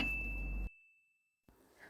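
A notification bell sound effect gives one bright, high ding that rings briefly, cuts off into near silence, and is followed by faint background sound.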